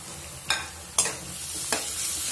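Onions with slit green chilies and crushed ginger and garlic are stirred in a pan. Three sharp scraping strokes cut through a steady background sizzle of frying.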